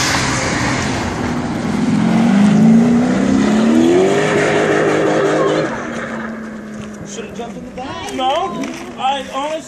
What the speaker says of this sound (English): Sounds like a turbo.